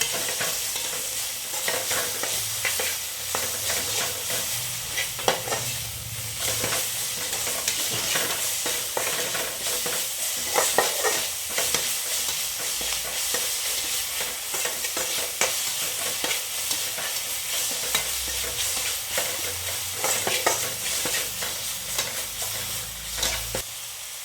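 Onions or aromatics frying in a pan with salt added, stirred steadily by hand for a bachelor-style bottle gourd dal kootu: a continuous close sizzle broken by repeated scraping stir strokes, with no voices.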